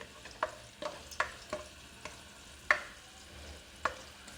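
A large onion frying in a pan toward light brown, with a soft steady sizzle under repeated light scraping stirs about every half second to second, close and fairly quiet, no voices.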